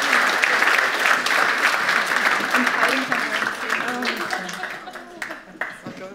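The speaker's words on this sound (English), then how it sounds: "let's just give them a round of applause" A church congregation gives a warm round of applause that gradually thins out, with a few scattered claps and voices talking underneath as it dies down.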